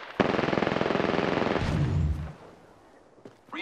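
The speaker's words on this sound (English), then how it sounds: "Opening fire on the enemy. I am taking fire, friends." Automatic weapon fire from the Apex Legends video game rattles off in a loud, rapid burst of about a second and a half, fades into a ringing tail, then a single sharp shot follows.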